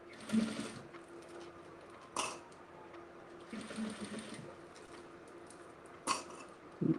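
A sewing machine stitches a bag gusset in three separate runs, a steady close whirring of a few seconds each with quiet pauses between them.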